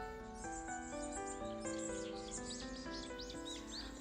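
Birds chirp and tweet quietly in an arboretum sound garden against a backdrop of steady layered tones, the calls scattered and faint throughout.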